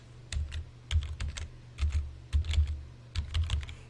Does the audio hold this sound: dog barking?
no